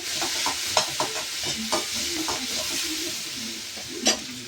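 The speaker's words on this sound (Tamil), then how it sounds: "வெங்காயம் வதங்கினாலும் தக்காளி, சும்மா குட்டி தக்காளி ஒன்று போட்டிருக்கேன்." Onions and a small tomato sizzle and fry steadily in a pan for kurma, with a continuous close hiss broken by several clacks of stirring.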